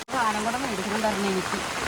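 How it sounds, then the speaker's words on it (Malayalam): Steady rain falls in a continuous hiss around a family home, with a person talking over it throughout. "നല്ല മഴ കിട്ടുന്നുണ്ട്"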